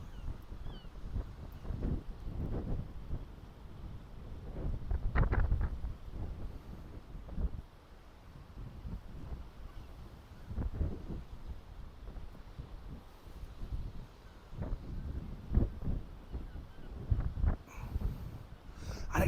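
Wind buffeting a microphone on the coast while sea fishing, a steady rumbling roar with gusty swells rising and falling throughout, fairly close and continuous, with no talking.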